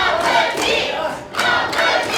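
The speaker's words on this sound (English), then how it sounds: "The crowd's definitely behind him, and that's good to see." A wrestling crowd cheers and roars loudly in a short burst, swelling, dipping briefly, then rising again without any speech.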